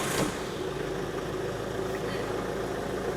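A Volvo C30 2.0D diesel engine just started and settling into a steady idle, a continuous close rumble with a brief louder burst at the very start, no talking over it.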